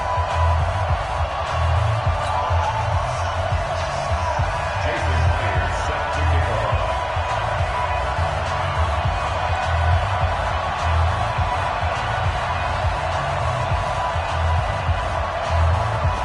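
Stadium crowd roaring steadily in a PS4 American football game between the New York Giants and Dallas Cowboys at AT&T Stadium, a continuous dense cheer with a heavy low rumble and no clear speech.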